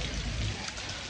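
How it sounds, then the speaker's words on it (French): Steady rain falls outdoors at a show-jumping event, a dense, even hiss of drops on surfaces that holds at a constant moderate level throughout, with no voices. "donc là il pleut"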